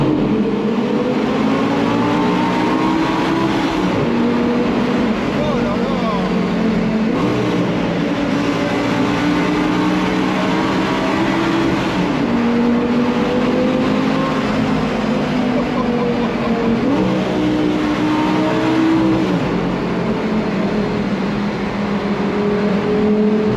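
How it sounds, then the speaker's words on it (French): A Lamborghini-sourced V10 in an Audi R8 V10 Spyder R-Tronic, droning loud and continuous with rising and falling pitch as it revs, heard from nearby throughout with no one speaking. "le son que procure ce moteur, j'ai les frissons. Le V10 de Lamborghini qui est dans cette Audi R8"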